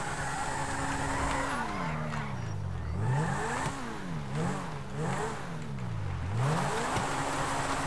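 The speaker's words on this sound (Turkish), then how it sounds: "Bunu keşfettik, bu makineyi keşfettik. Audi RS7 2022 dostlar." Audi RS7 2022 in Grand Theft Auto V, engine revving up and down repeatedly with tire squeal and skidding, a loud wavering game engine sound throughout.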